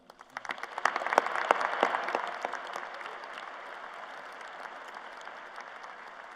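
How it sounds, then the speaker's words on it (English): A commencement ceremony audience breaks into applause that rises quickly to a steady, full wash of clapping, then slowly fades and thins over several seconds. "another round of applause."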